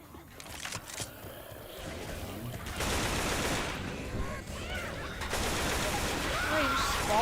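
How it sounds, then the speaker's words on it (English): Shotgun blasts ring out in a video game match, several bursts of gunfire overlapping with dense game noise and chatter, fairly loud and sustained. "Shotgun."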